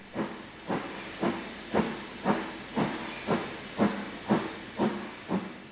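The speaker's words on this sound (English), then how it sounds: "This is one of the 20 locomotives built with Caprotti valve gear, instantly recognisable with their arms akimbo appearance and lowered running plate." An LMS Stanier Black Five steam locomotive fitted with Caprotti valve gear gives eleven sharp, evenly spaced hissing exhaust beats in a steady rhythm, each bursting over a continuous background hiss.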